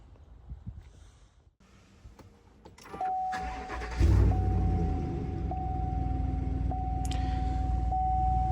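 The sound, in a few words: 2019 Silverado truck engine starting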